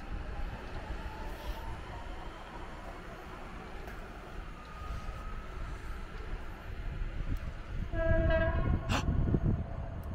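A train rumbles through Łódź Widzew station with a continuous rolling rumble and rattle, then sounds its horn in a loud, tonal blast near the end, followed by a short sharp burst.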